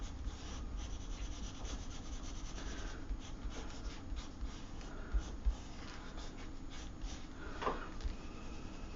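Dark purple colouring pencil shading fabric from the top down on paper, a steady soft scratchy rubbing with brief louder strokes, close and quiet, no talking.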